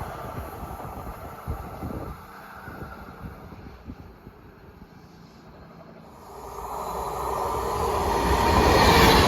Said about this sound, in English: here's the passing cross-country service to Manchester Piccadilly